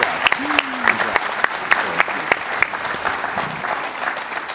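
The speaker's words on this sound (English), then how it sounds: "I think we should all give our panelists a round of applause for being with us today" A breakfast audience applauds its panelists at a business event, a steady round of clapping with a few sharper claps standing out and a brief voice near the start.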